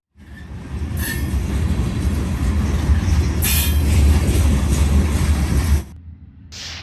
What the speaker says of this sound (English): Here's a grain train that has NS company owned cars.